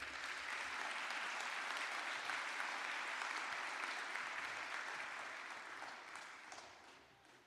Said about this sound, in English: A warm applause for our president.